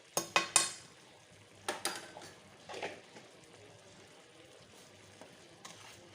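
Cream curry mixture is stirred in a pot, with a few sharp scrapes and clinks of a utensil against the metal near the start, then softer intermittent stirring over a quiet kitchen background.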